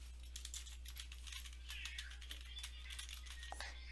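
Computer keyboard typing while entering a formula, a quick irregular patter of soft key clicks, close and fairly quiet over a low steady hum.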